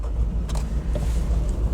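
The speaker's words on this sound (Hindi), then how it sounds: "इंजन का जो नॉइस है वो कैबिन में बिल्कुल फील होता है" Tata Nexon engine running at idle or low speed, heard from inside the cabin as a steady, close low-pitched hum and rumble with faint higher noise, no speech.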